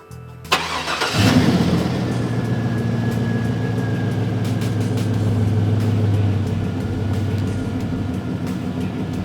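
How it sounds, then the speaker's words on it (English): A vehicle engine cranks and starts during a voltage drop test on its electrical circuit, a short starter whir followed by a steady, fairly loud idle that runs to the end with no talking. "We could even start the vehicle at this point"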